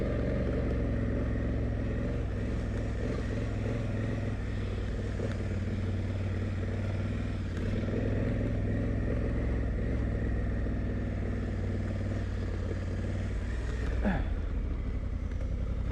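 A Honda Africa Twin DCT motorcycle climbs a hill in first gear, its steady low engine drone continuous and close throughout, with a brief sharper rise near the end.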